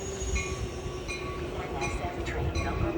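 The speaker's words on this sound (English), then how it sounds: "SF train number 1256 to Chicago Union Station is now arriving." A passenger train bound for Chicago Union Station rumbles into a station with low rolling noise, a steady tone and brief squeals of wheels, while faint voices murmur in the background.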